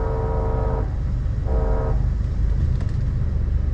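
Two short horn toots from a train passing on nearby tracks at a crossing in the Arizona desert, heard over steady rolling rumble and wheel noise. The rumble carries on after the second toot.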